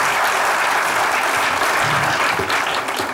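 A studio audience at a children's TV variety show with a magic act applauds steadily and loudly for about three seconds, a dense continuous clatter of many hands with no talking over it.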